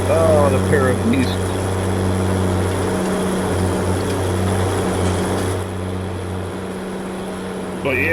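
Two tractor engines in a farming video game roar side by side with a steady, loud low drone that holds for the whole stretch, dipping slightly near the end.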